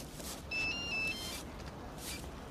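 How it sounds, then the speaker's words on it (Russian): A mobile phone rings with a short electronic melodic tone, two quick bursts of clear beeps over a quiet room background. "Артем Леонович, а у вас звонит"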